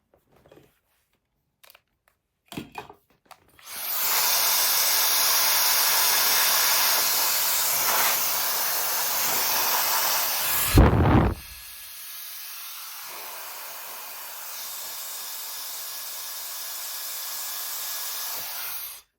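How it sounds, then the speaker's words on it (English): A hair dryer blows with a steady, loud airy roar after a few clicks, shifting to a softer, lower setting partway through. "give it a blast with the hairdryer."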